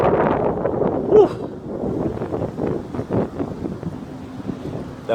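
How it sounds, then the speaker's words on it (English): Wind buffets the microphone on a cold night street, producing a steady rumbling roar that rises and falls without a break. "That wind is cutting though"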